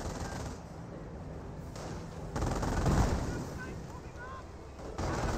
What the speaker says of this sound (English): An AT gun shot does connect onto the Hetzer.